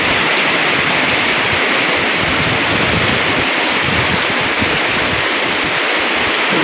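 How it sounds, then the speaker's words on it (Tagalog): Heavy rain pours continuously while strong wind roars and buffets during Typhoon Ferdie, a dense, loud wash of noise with no pauses. "Eh ngayon bigla na ng mga buhos. Oh, maglakas pa ng hangin."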